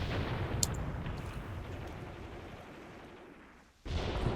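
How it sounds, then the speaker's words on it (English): Mortar rounds landing in the Graviteam Tactics war game: a faint, distant rumble of explosions that rolls on and fades over several seconds, then a fresh dull blast near the end. "There's our mortar fire arriving."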